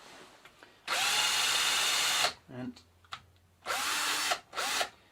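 A cordless drill at its fastest setting spins a bicycle dynamo clamped in a vise, whining in three loud bursts separated by pauses with brief mechanical clicks between them, and a short spoken word comes in between bursts.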